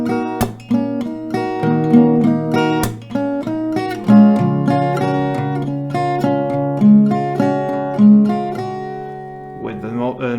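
An acoustic guitar strums a song in a pattern of four downstrokes, a clap, then three downs, bright and close, with sharp claps punctuating the chords and no voice.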